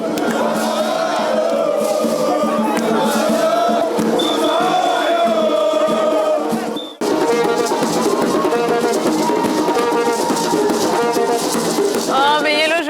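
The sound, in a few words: crowd cheering as Ivorian basketball team is welcomed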